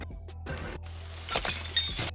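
A glass shattering sound effect breaks into separate crashes and sharp tinkling bursts over a low steady hum, with a brighter, louder cluster of breaking glass toward the end.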